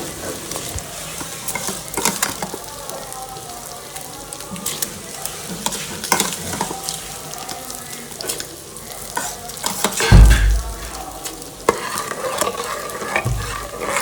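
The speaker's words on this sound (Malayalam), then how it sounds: "ഇനി നമുക്കിത് കുക്കറിലേക്ക് അരി ഇട്ട് കൊടുക്കാം." Water bubbles and churns steadily in a pressure cooker, with a brief splash midway as rice is poured in; no one speaks.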